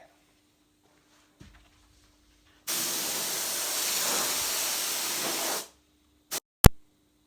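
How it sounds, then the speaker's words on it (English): A single long hiss from a spray can on a Holden VT-VZ door trim lasting a few seconds, close and steady, followed by two brief clicks. "So I have sprayed this part and this part once in that bottom area"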